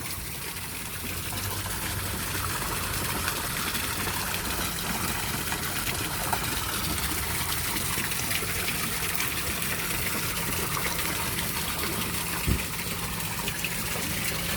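Water draining from a dirty backyard fishpond into a drum, a steady broadband gush and trickle running evenly throughout, with one brief knock near the end.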